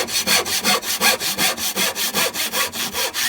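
Handsaw cutting through wood during timber frame construction, a steady back-and-forth rhythm of about fifteen close, loud rasping strokes with no talking.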